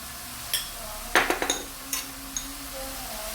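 Ginger and garlic are sautéed in a pan for beef bone curry, with a few sharp clinks and scraping clatters of a utensil against the pan over a steady low hiss.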